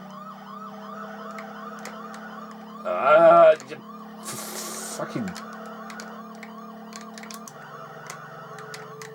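Wailing police car siren from the Amiga racing game F40 Pursuit Simulator, a steady electronic warble repeating under a droning engine tone, with a man swearing briefly over it and a burst of louder game noise.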